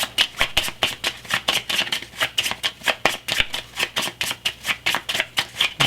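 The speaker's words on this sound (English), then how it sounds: "So I'm going to have to shuffle up my hand and randomly discard one of them." A hand of game cards for a solo board game is shuffled in rapid, regular riffling bursts, close and crisp, continuing steadily without talk.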